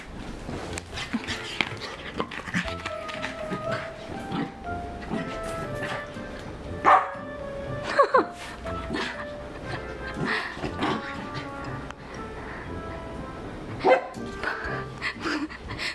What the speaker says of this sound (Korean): 강아지 왜 이래?